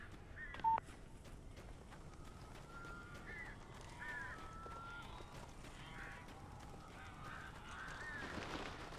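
Crows cawing in the video game Alan Wake, several scattered calls against a steady low ambient bed, with one sharper tone near the start.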